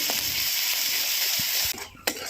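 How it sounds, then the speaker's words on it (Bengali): Onions and masala sizzle loudly as they are stir-fried in a pan over a wood-fired clay stove, with a steady bright hiss and occasional scraping stirs near the end. "মশলাটাকে এবারে লাড়ি চড়ে ভাজিয়ে নেবো ভালো করে পেঁয়াজের সাথে মেশাই নেবো"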